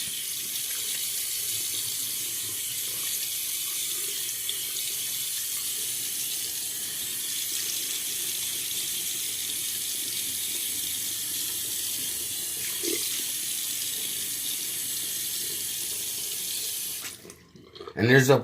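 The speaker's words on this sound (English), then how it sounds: "Now we're going to wet the face" A bathroom tap runs steadily close by to wet the face during a wet shave, a continuous hiss of flowing water that lasts throughout before being turned off with a clatter at the very end.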